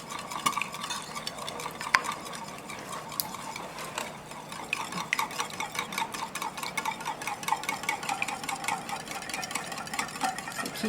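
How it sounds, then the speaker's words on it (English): A whisk beats a sauce with Sriracha in a bowl, a steady rhythmic run of quick metallic clicks and taps against the bowl sides, close and moderately loud, with no talking. "we're gonna take a whisk and we're gonna mix everything together"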